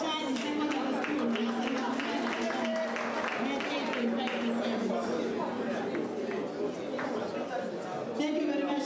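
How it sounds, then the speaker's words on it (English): Audience at a teachers' excellence awards ceremony clapping for Mashadi Secondary School, with sustained applause and crowd chatter running under it. "Let's applaud Mashadi Secondary School"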